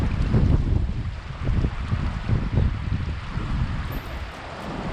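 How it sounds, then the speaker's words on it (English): The Truckee River flowing through Mayberry Park near Reno, a steady rushing, churning wash of water with low rumbling surges, fairly close and loud, with no voices. "take in the beautiful sights and sounds of the Truckee River"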